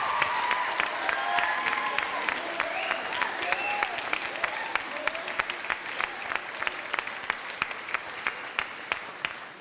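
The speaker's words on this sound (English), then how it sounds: "have a big round of applause here for" An audience applauds students after a school production of The Hot Mikado, sustained crowd clapping with a sharp regular clap beat standing out, and people talking over it near the start.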